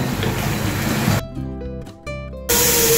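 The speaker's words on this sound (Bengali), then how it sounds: "জোরে ফুটছে, বুঝতেই পাচ্ছেন।" Curry boiling hard over high heat gives a steady, dense hiss and bubbling that stops for over a second while a clear tonal sound plays, then comes back loudly.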